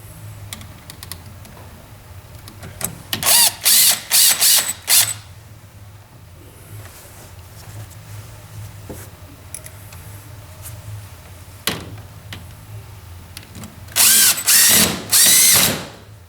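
A cordless power driver spins screws in to fasten an air valve bank into place, with several short whirring bursts around three to five seconds and again near fourteen to sixteen seconds, plus faint handling clicks in between.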